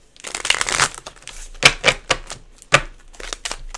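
A deck of playing cards is shuffled at a table: a burst of rapid riffling flutter up front, then several sharp snaps and slaps as the cards are squared and tapped, close and fairly loud with no talking.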